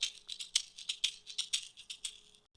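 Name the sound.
tube shaker from Klevgrand percussion app, normal setting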